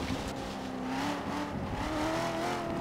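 A car engine drones steadily while driving in Forza Horizon 3, a moderately loud, continuous hum with slowly shifting pitch as the vehicle cruises along, no talking over it.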